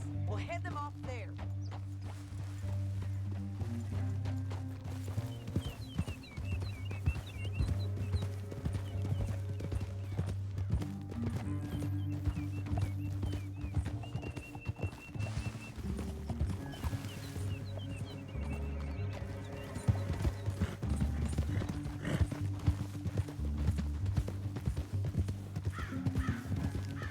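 Horse hooves galloping in Red Dead Redemption 2, a steady rhythmic clip-clop running throughout beneath game music and spoken voices.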